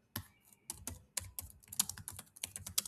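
Close, crisp keystrokes on a computer keyboard while entering data into an Excel spreadsheet, a quick irregular run of clicks and taps with short pauses between bursts, no voices.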